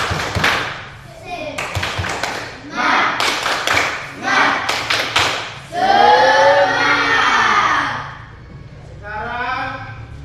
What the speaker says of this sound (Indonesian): Tepuk semangat dulu untuk kelompok 3.